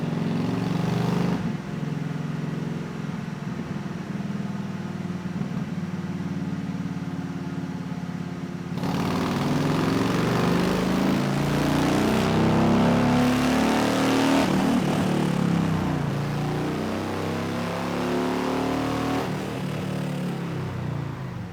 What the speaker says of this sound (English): Well, it didn't sound as hefty as Pop's bike did